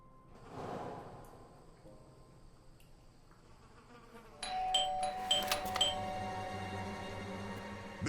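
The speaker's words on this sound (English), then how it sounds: "I thought I should use the doorbell so I wouldn't startle you." Doorbell ringing in the video game Blues and Bullets, a bright chiming ring that starts midway after a quiet buzzing stretch, with several clear repeated tones ringing on close and fairly loud.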